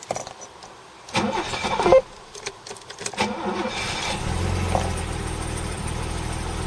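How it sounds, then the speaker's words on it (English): A 280E car engine with a bad exhaust leak cranks briefly, catches and starts, then settles into a steady idle close by. "Let's start it up and see how the exhaust leak from hell is going."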